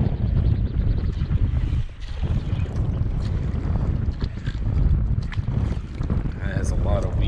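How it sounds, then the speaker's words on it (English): Strong east wind buffets a small fishing boat on a back bay off Long Island, a loud, continuous low roar of wind noise with water lapping, close to the microphone, with faint talking underneath. "Wind's blowing pretty strong out of the east."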